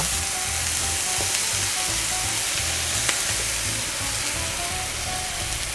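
Beaten eggs hit a very hot pan already holding bacon and sizzle hard, a steady loud frying hiss that holds for several seconds with no talking.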